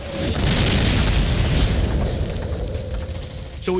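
A rocket launcher round slams into a tank during Vietnam War armored combat, setting off a loud, sustained explosive roar that fills the clip and slowly fades, with a faint clatter at the end.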